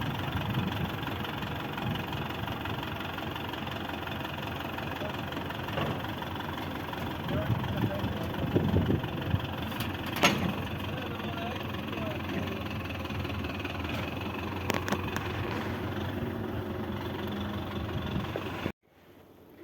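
An MTZ 1523 tractor engine idles with a steady low rumble and knock throughout, while a voice talks over it, until the sound cuts off abruptly at the end.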